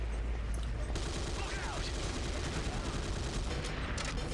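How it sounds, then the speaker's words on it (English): Gunfire from a Command & Conquer style video game as snipers are shot, a dense continuous rattle of rapid shots at moderate level mixed with busy battle noise. "I'm basically just shooting snipers and hoping that they don't one-shot me"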